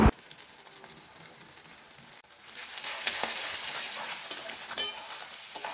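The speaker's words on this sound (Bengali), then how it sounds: "এবার দিয়ে দেব ভেজে রাখা বেগুনের টুকরোগুলো, দিয়ে সব কিছু একসাথে ভালো করে মিশিয়ে নেব" Eggplant pieces that were fried earlier are stirred into hot spiced oil in a pan, giving a steady crackling sizzle with scraping strokes. The frying grows louder partway through, and no one speaks.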